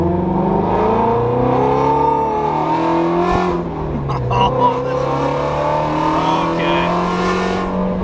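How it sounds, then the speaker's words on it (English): A Lamborghini and a Mustang race, sustained loud engine drone and revving close by, pitch rising and falling as they accelerate, with faint talk underneath. "We're gonna go race our Lamborghini and our Mustang"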